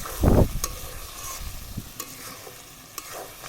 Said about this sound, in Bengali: আমি আবার আর একটু নেড়ে চেড়ে নিচ্ছি